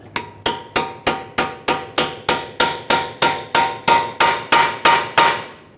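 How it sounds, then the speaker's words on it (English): Pry bar hammered into the split of a rusty front lower control arm knuckle on a 2018-2023 Subaru Crosstrek to free a pinched ball joint; about seventeen sharp metallic strikes ring out in a steady rhythm, close and loud, with no talking. "To free up the ball joint, because it's pinched shut in here, I'm going to put a pry bar."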